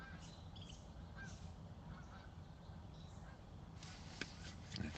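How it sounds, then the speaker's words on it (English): Geese honk faintly in the distance, with a few scattered calls rising above a steady outdoor hiss and a brief louder burst near the end. "The birds are going to get noisy and the geese."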